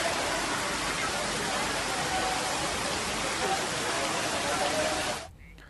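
Heavy, steady rain pours down in Nathdwara, Rajsamand, a dense loud roar of falling water lasting several seconds before cutting off abruptly near the end.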